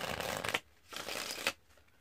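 A deck of playing cards shuffled up close, two bursts of riffling flutter each ending in a sharp snap as the cards bridge together, separated by a brief pause.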